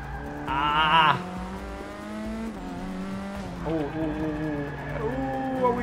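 A formula race car in the game Forza 6 drifts with a brief, sharp tire squeal, and its high engine note climbs and falls through gear shifts under a speaking voice.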